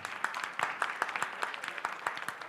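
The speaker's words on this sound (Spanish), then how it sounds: "la vamos a recibir con un cálido aplauso" Warm applause from an audience welcoming a doctor to the front at a talk on clinical trials, with irregular clapping that rises and falls steadily at moderate volume, no voices.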